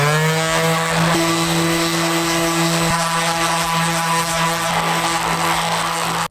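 A noodle cutter machine grinds a chocolate bar, running as a loud, steady motorized whine with a strong droning hum for several seconds before cutting off abruptly.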